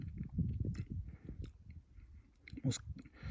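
Soft, moist chewing of a ripe Longue d'Août Breba fig, close to the mouth, with small crunches from the seeds in irregular bursts and brief quiet gaps between bites.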